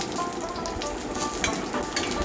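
Dried red chillies and panch phoron sizzle in hot oil in a home kitchen, a loud, close, continuous crackling fry with no voices over it.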